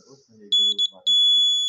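An Arduino Uno ultrasonic-sensor circuit buzzer sounds in short high-pitched beeps, then a loud continuous tone, following a few words of speech at the start.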